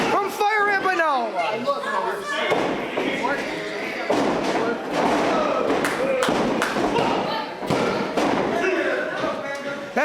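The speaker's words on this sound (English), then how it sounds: "What a senton from Fire Ant, but no." Wrestler's senton landing in the ring at an independent wrestling match, a heavy thud on the mat followed by further thumps, under loud commentary and crowd noise.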